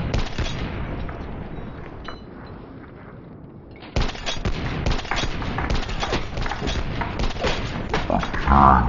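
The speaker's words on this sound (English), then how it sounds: "They're firing at me. I'm pinned." Battlefield 1 gunfire from a firefight, with dense, rapid bursts of automatic fire crackling continuously after a quieter opening stretch of distant shots, loud and close in the second half.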